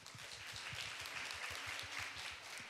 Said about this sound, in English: please welcome our moderator and speakers up on stage with a big round of applause